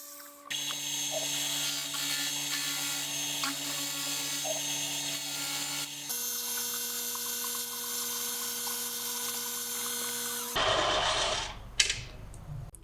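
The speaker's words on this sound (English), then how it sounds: "A little shaping with a belt sander" A belt sander grinds and shapes a metal shifter lever for a Honda Trail CT70 mini chopper's foot controls, a loud continuous whine and rasp that shifts pitch midway, then changes to rougher grinding near the end, with no voices.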